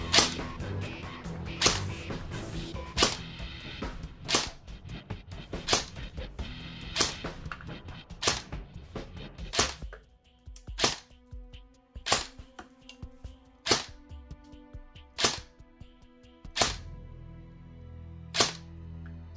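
E&C 417 airsoft rifle firing 0.36 g Mad Bull BBs through a chronograph on an 11.1 V lipo battery: about a dozen sharp, evenly spaced single shots, each a crisp snap with a brief mechanical clack, loud and close, with no voices.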